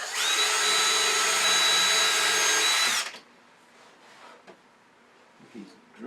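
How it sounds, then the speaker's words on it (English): A power drill bores a hole in wood, whining loudly and steadily for about three seconds, then stops abruptly, leaving quiet room noise with a few faint knocks and handling sounds. "So we're going to come in and drill perpendicular straight up for his arm."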